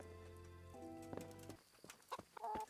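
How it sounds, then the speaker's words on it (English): Chicken in the medieval role-playing game Kingdom Come: Deliverance, a few short clucks close by over a low ambient tone. "That's a chicken."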